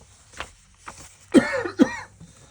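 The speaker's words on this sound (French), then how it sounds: "Et la toux n'est toujours pas passée" Two sharp coughs close to the mic, one right after the other, preceded by a couple of faint breaths or small clicks in a quiet room.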